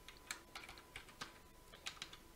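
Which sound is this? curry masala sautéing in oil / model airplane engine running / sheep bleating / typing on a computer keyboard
typing on a computer keyboard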